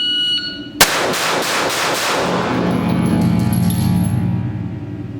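Rapid pistol shots at a shooting range, a sharp loud crack followed by a burst of closely spaced reports that blur into a sustained ringing roar, with a faint high electronic tone behind.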